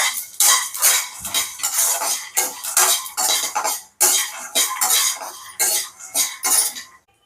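Cloves fried on a low flame in a pan, heard as repeated metallic clinks and scrapes of a utensil against the pan in short bursts, with only a faint sizzle beneath.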